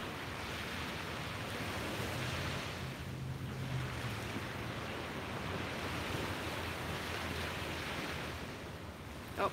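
Ocean surf washes onto a beach at sunrise in a continuous, moderately loud rush of breaking waves and foam, with wind buffeting the microphone and no talking.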